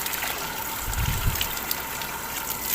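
A Mitsushi water pump draws water up through PVC pipe, giving a steady, moderately loud rushing wash with a brief low surge partway through and no talk.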